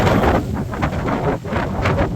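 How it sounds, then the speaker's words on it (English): Strong wind buffets the microphone in steady roaring gusts, loud and close, with no voices, during a storm at an RV park. "It is very windy out here."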